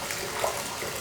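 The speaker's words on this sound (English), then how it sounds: "It's already bubbling up to some extent here." Water rushes and bubbles steadily in a filling bathtub, a close, continuous hiss and gurgle with no voices over the one-second stretch.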